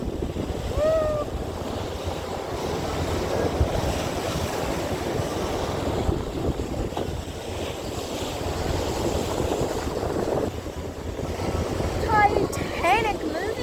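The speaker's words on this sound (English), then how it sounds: "And it's really windy out here in the Atlantic Ocean." Strong wind and ocean waves roar continuously on the open Atlantic from aboard a ship at sea, a broad rushing wash with brief voices breaking in near the start and end.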